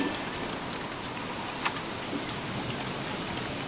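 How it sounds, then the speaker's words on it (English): Steady rain in the Don't Starve video game, a dense, even hiss of falling water that continues without a break, with no voices over it. "I've been in the rain before"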